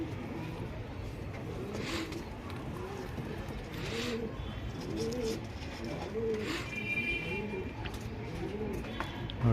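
Pet birds, a lot of ten offered for sale, cooing like pigeons or doves in a steady repeated rhythm, close and moderate, with light background noise and a person talking intermittently.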